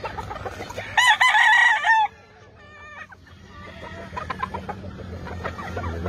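A Vanilla Gray gamefowl rooster on a Philippine farm lets out one loud, close crow, followed by softer clucking and faint background chatter.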